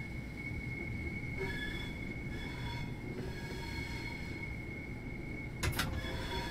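A train in a railway simulation game arriving at Stroud Station lets out sustained high-pitched wheel flange squeal over a steady rumbling of rolling stock, with a brief sharper screech near the end.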